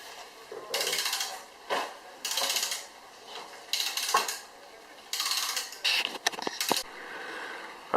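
Old nuts are spun onto the studs of a rebuilt Ford 9-inch rear axle, several separate bursts of close metallic ratcheting and threading, each lasting about a second, with quiet pauses and a sharp clink near the end.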